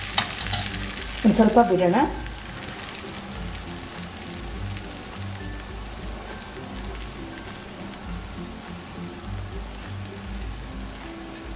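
Jowar rava-style dosa batter hits a hot pan, a brief burst of splattering sizzle settling into a steady frying hiss; a voice speaks briefly.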